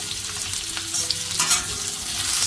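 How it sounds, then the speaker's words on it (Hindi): Raw taro (arbi) frying in hot oil, giving a dense, loud sizzle and crackle, close up and continuous with slight surges. "हमारा ऑयल हीट हो चुका है और मैंने अरबी इसमें फ्राई करना है।"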